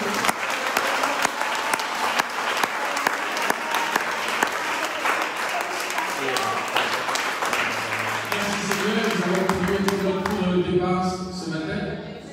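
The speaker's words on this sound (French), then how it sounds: "Applaudissons bien pour le Seigneur." A church congregation applauds during a French-language worship service, sustained loud clapping that carries through the whole stretch before fading as sustained music and voices rise at the end.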